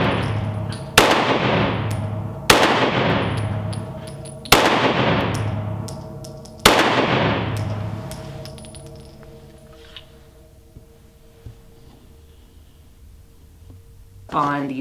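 Four loud, sharp gunshots from a Smith & Wesson Shield EZ pistol chambered in 30 Super Carry, spaced about two seconds apart at a range, each with a ringing decay, followed by a quieter stretch and a final faint report.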